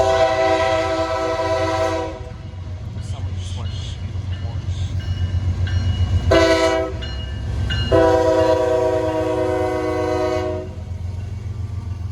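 Intermodal freight train led by two -9 locomotives passes close by, with a deep engine rumble and wheel noise under loud, sustained horn blasts that stop, return in short bursts, then sound long again.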